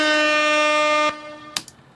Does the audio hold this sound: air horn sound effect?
yes